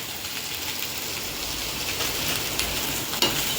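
Ragda frying in a pan over a low flame with turmeric just added, giving a steady, soft crackling sizzle with faint stirring scrapes and a small sharper clatter near the end.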